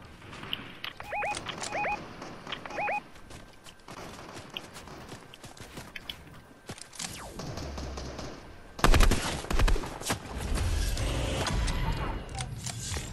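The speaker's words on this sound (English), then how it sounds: "People are shooting to the right of us too." Gunfire from people shooting nearby, heard as bursts of sharp reports with a louder volley partway through, over rustling and movement.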